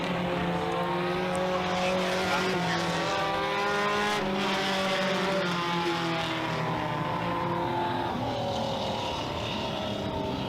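Four-cylinder stock cars racing at Merrittville Speedway, several engines buzzing and revving together in overlapping rising and falling tones, steady and fairly loud throughout.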